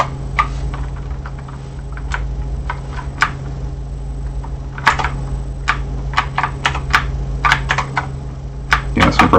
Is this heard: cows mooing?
no